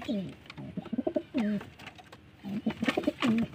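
Pigeons coo repeatedly close by, soft throaty calls overlapping in uneven bursts, with a few brief pauses between them.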